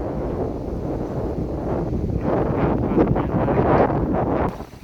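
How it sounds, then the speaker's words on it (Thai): Dry wind sweeps across rice fields in the dry season in rural Laos, a loud, rough roar of gusts buffeting the microphone that swells in the middle and drops away abruptly at the end. "ลมแห้งจนสิบ่ได้ยินเสียงเนาะ"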